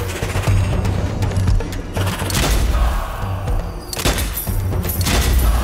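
Dense, continuous gunfire from the video game Strange Brigade, rapid overlapping shots and heavy booming thuds sustained loudly throughout with no pauses.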